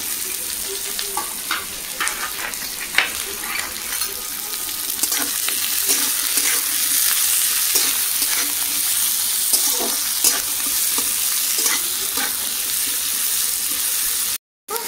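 Chopped onion and chili sizzle in hot oil in a pan, a steady loud frying hiss with scattered clinks and stirring scrapes throughout, no talk.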